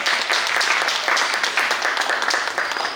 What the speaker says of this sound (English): And we should also have a loud round of applause for all of you who have made the effort to join us here.